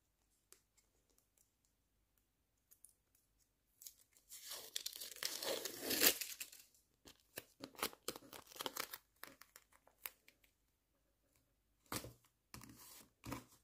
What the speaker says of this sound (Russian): Ребят, посмотрите, я здесь порвала пакетик.